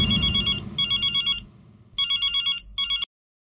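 A telephone rings indoors in a sitcom scene, with several bright trilling bursts in two-part cadence and pauses between them, ending abruptly in silence.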